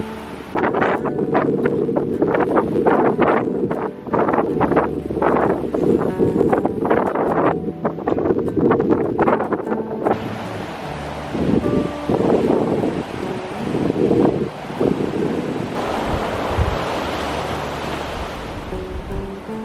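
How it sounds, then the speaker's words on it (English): Ocean waves surge and wash beneath coastal rocks on the Cape to Cape track, rumbling and gushing in repeated swells, with gusty wind buffeting the microphone. "Ocean feeding up right underneath the rocks."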